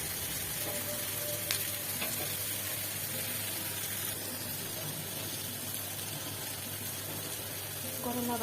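Bitter gourd and yardlong beans fry in a pan with a constant, close oil sizzle and a few faint stirring touches. A voice briefly surfaces near the end.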